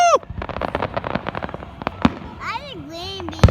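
A fireworks finale at an outdoor show in Rouses Point: a rapid run of sharp bursts and crackles, then a few louder booms amid whistling, with a crowd cheering and talking nearby.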